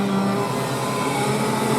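Kart racing during a senior heat on a circuit, an engine held at steady high revs as the driver accelerates away on a lap of honour; continuous, loud and close, with no talk.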